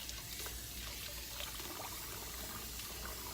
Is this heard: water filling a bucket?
yes